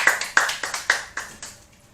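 A short burst of hand claps, about seven sharp claps in an uneven rhythm that fade toward the end, close and fairly loud.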